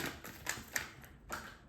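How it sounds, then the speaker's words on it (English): Tarot cards being shuffled by hand, a quiet run of quick, crisp clicks and riffles with no talking. "I'm going to shuffle in front of you"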